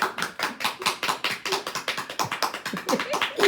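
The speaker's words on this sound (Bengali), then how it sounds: "হাততালি দে শোনাই" Rapid, steady hand clapping from a small group at a home anniversary celebration, close and bright, a continuous run of sharp claps lasting a few seconds.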